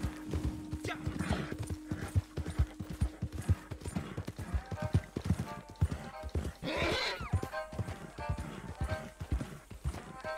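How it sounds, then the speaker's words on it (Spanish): Rhythmic hoofbeats of a galloping horse in Red Dead Redemption 2 Online, a steady clip-clop pattern with a whinny partway through, under occasional talk and game sounds. "el caballo, tío, se ahoga pronto"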